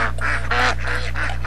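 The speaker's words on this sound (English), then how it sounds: "The honking of the geese was deafening." Wild geese honking by a river, a close, loud series of about five nasal honks in quick succession over a steady low hum.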